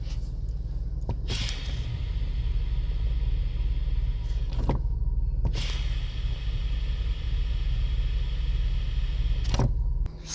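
A running car with a faulty brake booster gives a steady low engine drone throughout. Three sharp hissing bursts sit on top of it, close by, spaced a few seconds apart, like air rushing as the brake is worked.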